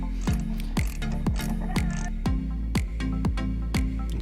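A hand ratchet loosens the single bolt on a quad's torsion bar bushings, sharp regular clicks repeating close by over a steady low hum.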